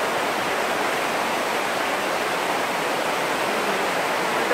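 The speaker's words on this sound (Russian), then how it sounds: "Я иду сейчас по воде." Constant rushing water in Khashupse canyon, Abkhazia, a loud, even roar of flowing stream close by while someone wades through it, with no voices.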